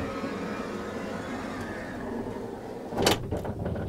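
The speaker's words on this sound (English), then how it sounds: "But you can close the door by pressing" The sliding door of a 2024 Mercedes Sprinter VIP luxury van closes with a low motorized hum that ends in a sharp thud, followed by a softer latch click, all close by.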